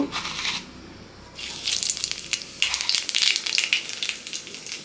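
Black cumin seeds hit hot oil in a wok, setting off a bright crackling sizzle that swells in uneven bursts, close and steady with no talking.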